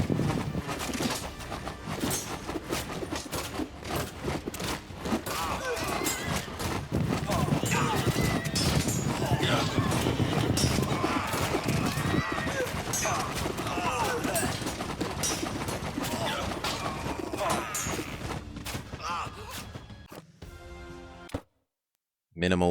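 Horses in the strategy game Citadelum, a busy clatter of hooves and clip-clopping mixed with clashing battle noise, dense and steady for most of the stretch before cutting out near the end, with someone talking over it.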